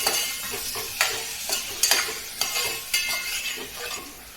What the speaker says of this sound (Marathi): आता ते टाकून आपण चांगलं परतून घ्यायचं